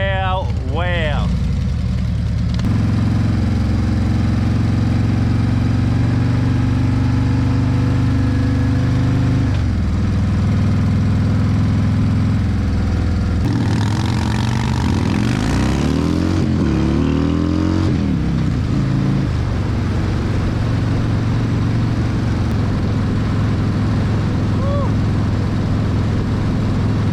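A 2024 Harley-Davidson CVO Road Glide ST rumbles steadily at close range while riding, engine note rising and falling with throttle, with wind and a rider's voice occasionally over it.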